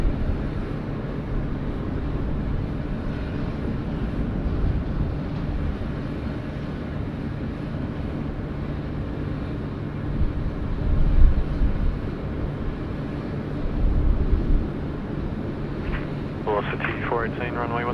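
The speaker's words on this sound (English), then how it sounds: "Just 321 coming in on runway 16 left." Steady, loud jet rumble from an Airbus A321 landing on runway 16 left at Sydney Airport, a broad roar that swells mid-clip, with faint radio chatter near the end.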